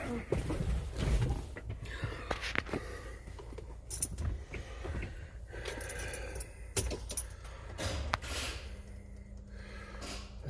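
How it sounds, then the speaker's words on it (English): Dashboard of a car clacking and rattling in irregular light bursts over a steady low road rumble, with faint breathing and some brief talk mixed in. "This whole dashboard clacks and everything else"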